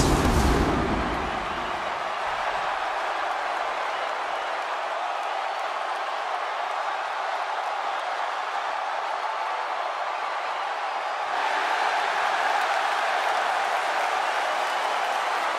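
A virtual arena crowd in WWE 2K16 roars for the Ultimate Warrior's entrance, a loud, sustained wash of cheering that opens with a heavy boom and swells again near the end.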